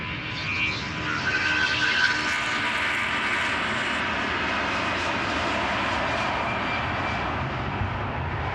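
A jet airliner departs Amsterdam Schiphol Airport, heard close up as a loud, sustained engine roar that holds steady with a broad rushing whine across the whole stretch.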